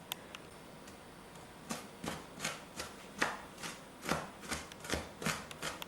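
A knife chops an onion steadily on a cutting board, around a dozen crisp, fairly quick strikes in an irregular rhythm, close by and with no talking.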